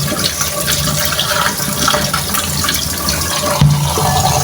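Cold tap water runs steadily over freshly strained noodles in a kitchen, a close, continuous rushing splash with a brief louder gush near the end.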